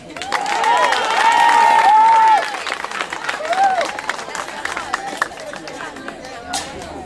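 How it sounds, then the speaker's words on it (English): A crowd greeting returning champion students at a senior high school claps and cheers loudly for a couple of seconds, then fades into scattered claps and chatter while voices talk over it. "Clap for them."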